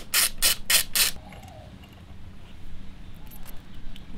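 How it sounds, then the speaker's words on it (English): Ratchet wrench loosening a bolt on the throttle body of a Toyota Yaris with a 1ZZ engine, four quick loud clicking strokes up close, then fainter rattles afterward. "Then we just gotta disconnect this bolt here, which holds this guy right here."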